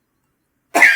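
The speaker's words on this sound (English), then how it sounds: "It made me cough." A single sharp cough bursts out close and loud after a stretch of silence, brief and alone.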